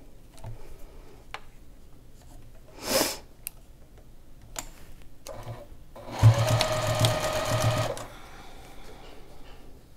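A sewing machine stitches quilt binding in short whirring bursts, with a longer run of rapid mechanical stitching near the end, separated by quiet pauses and small clicks and handling noises.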